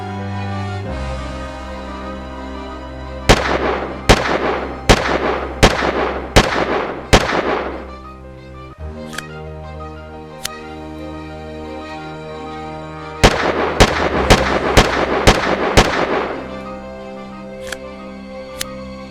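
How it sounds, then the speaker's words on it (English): A LEGO revolver fires sharp, loud cracking shots in two fast volleys of about seven each, then a few single shots spaced apart, all close and with no one talking. "what better way to test out a revolver than to start shooting it"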